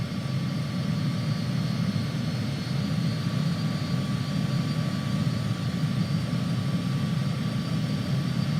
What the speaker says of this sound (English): I can fall asleep right now just listening to the airplane